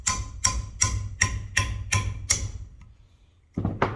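A small chisel works a brittle wooden scale off the handle of an old meat cleaver, giving seven evenly spaced sharp taps about every third of a second, then a pause and one more tap.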